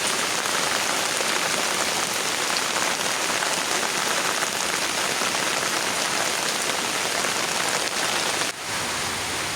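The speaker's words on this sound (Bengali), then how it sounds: "বৃষ্টি শুরু হয়ে গেল" Steady, heavy rain pours down in a dense, even hiss that fills the whole stretch, with no voices over it.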